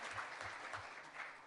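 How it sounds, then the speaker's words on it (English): Brief applause from a small gathering, a short patter of clapping hands that stays steady and moderately loud for about a second and a half, with no talk. "give her a round of applause"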